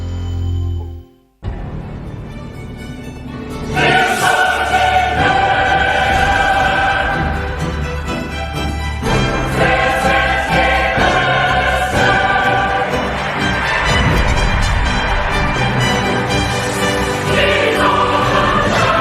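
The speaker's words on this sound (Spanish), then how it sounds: "Suena así, señores, la marcha oficial de la Champions League" The UEFA Champions League anthem, orchestral with choir-like swells, plays loudly and continuously on radio after a brief pause at the start, full and majestic throughout.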